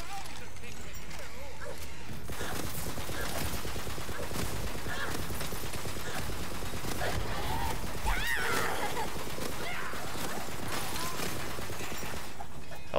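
Dense bursts of gunfire from the video game Tiny Tina's Wonderlands, rapid overlapping shots layered with game effects and music throughout, with a person talking over the action.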